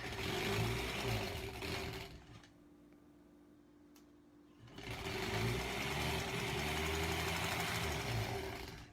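A sewing machine runs in two bursts, stitching quilt strips for a granny-squares quilt. It gives a close, fast mechanical whir with ticking, pauses for about two seconds in near quiet, then starts up again steadily.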